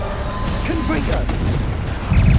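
Bombarda blasting spell going off in the Hogwarts Legacy video game, a deep booming burst with a heavier low thump near the end, layered over game music and effects.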